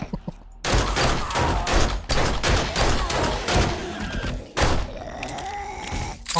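Gunfire in the zombie survival game 7 Days to Die: loud bursts of repeated shots in rapid succession, near and punchy, with short pauses between volleys and no talking over them.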